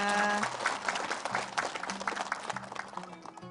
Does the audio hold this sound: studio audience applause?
yes